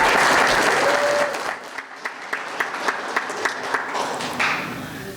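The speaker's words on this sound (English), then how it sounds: "I just want everyone to give each other a round of applause again" Guests at a community progress dinner in Boyertown applaud, a broad crowd clapping that thins into scattered individual claps with distinct sharp hits toward the end, no talk over it.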